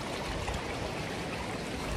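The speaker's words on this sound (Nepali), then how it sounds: "झर्नाको पानी आइरहेछ" Water from a tall mountain waterfall in Nepal's Manang region flows with a steady, broadband rush, faint and continuous without pause.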